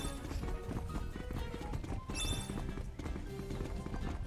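Horse hooves clatter steadily in the video game Horse Club Adventures, a continuous clip-clop with a brief whinny-like sweep midway, set against busy game music.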